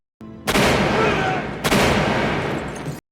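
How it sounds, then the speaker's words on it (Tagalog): Gunfire in a dramatic film fight scene, two loud sharp blasts about a second apart, each followed by a long dense roar of noise that fills the short clip. "Nagkagulo ang bakbakan at naging pisikal hanggang sa bumaril si Matt at napatumba ito, iligtas si Katrina."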